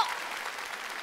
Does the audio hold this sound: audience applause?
yes